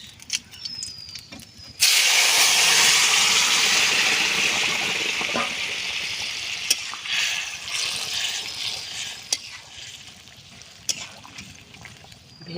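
Boiled eggplant and yam poured into a hot pan with chillies and bay leaf, setting off a sudden loud hissing sizzle that gradually eases into steady frying crackle, close by with no talking.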